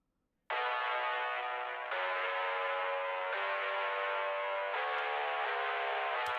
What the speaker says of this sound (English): So I add in a little lo-fi piano.